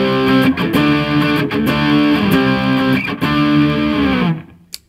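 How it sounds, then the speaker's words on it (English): Electric guitar driven through a Zakk Wylde overdrive pedal, thick edgy chords sustained in a steady strummed pattern with brief breaks, loud and close, ringing out and cutting off near the end. "We're going to turn the Zakk Wylde overdrive on."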